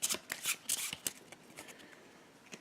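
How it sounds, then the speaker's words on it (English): A deck of mystery cards from the Eldritch Horror board game being shuffled by hand, a run of quick riffling card flutters with short pauses between, close and fairly loud, no voices. "So here are the mysteries. Let's shuffle these and pick one."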